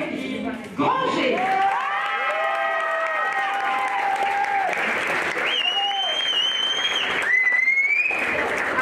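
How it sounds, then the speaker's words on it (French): Crowd applause and cheering greet bronze medallist Mélodie Granger on the podium, a dense sustained wall of clapping and shouts with whistles and musical tones running through it. "Applaudissements mérités pour Mélodie Granger."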